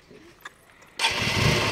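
A motorcycle engine catches after a quiet moment and settles into a loud, steady running rumble close by, with faint movement and voices before it starts.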